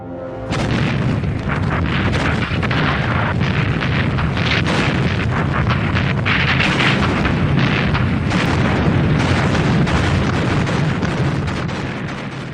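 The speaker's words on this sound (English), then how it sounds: "For half an hour, the constant sound of cannon fire and detonations." A relentless barrage of deep booms from Soviet artillery cannon fire and detonations at the Seelow Heights in 1945 rolls on without pause, loud and dense, with overlapping detonations.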